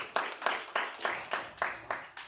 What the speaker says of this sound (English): give a warm and appreciative round of applause to our technical and back of house staff